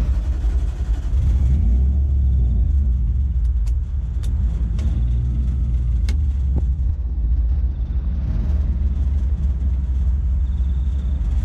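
A car engine, fitted with an AiM Strada dash, fires up and settles into a steady, slightly lean idle, a continuous low rumble heard close with a few faint clicks and ticks over it.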